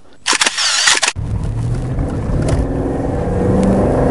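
A Mercedes coupe drives along, opening with about a second of loud, harsh broadband noise that gives way to a steady, low engine and road rumble with no talking.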